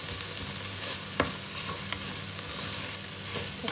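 Malunggay, tomato and baked beans sizzling in a frying pan, with steady loud frying hiss and occasional scraping stir strokes close by.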